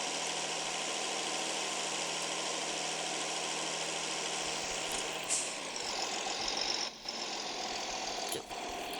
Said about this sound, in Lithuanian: Tai vežu traktorių prie čia.